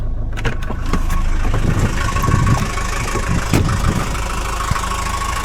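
The engine of a 1979 Mercedes W123 idles nearby with a steady low rumble, with clicks and handling bumps over it and no talking.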